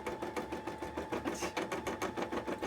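An embroidery machine stitches a cosplay piece, its needle hammering in a fast, steady rhythm with a constant mechanical whir, close and moderately loud throughout.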